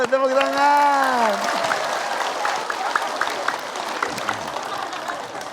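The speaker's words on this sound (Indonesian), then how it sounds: "Tepuk tangan." An audience at an Islamic religious gathering breaks into sustained applause after a brief sung or spoken tone at the start, continuing as a dense, steady patter of many hands throughout.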